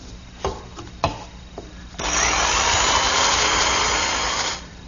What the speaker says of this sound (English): So I'm finishing them up with my handheld jigsaw and the finest,